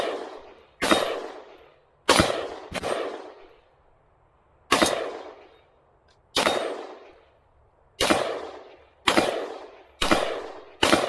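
Repeated rifle shots from an AR-15 firing 5.56×45 rounds at targets, loud sharp cracks each with a decaying tail, nine shots fired at an uneven pace, some in quick pairs.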